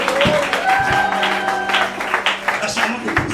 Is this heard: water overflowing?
no